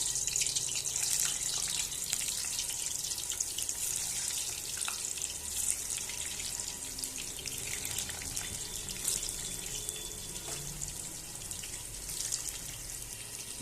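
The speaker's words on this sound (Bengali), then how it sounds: "এবার আলুটা আমি ভেজে নেব।" Boiled potatoes frying in oil in a pan, a steady loud hiss and crackle throughout with scattered sharp pops, close and continuous.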